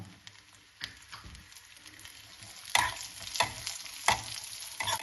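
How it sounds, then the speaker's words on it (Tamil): Cashews and raisins sizzle and crackle in hot ghee, with sharper bursts of frying as they are stirred, close up and without talk. "நம்ம நெய்யில் திராட்சை முந்திரி வறுத்துக்கலாம்"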